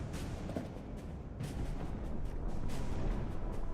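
Grenade explosions in the video game Mass Effect 3, a dense run of rumbling blasts and booms that swell and build toward the end, with battlefield noise throughout.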